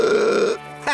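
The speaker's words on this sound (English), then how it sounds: "before letting out a huge burp" A single huge burp from a young ostrich stuffed with apples, loud and close, a long rough drawn-out belch that ends abruptly.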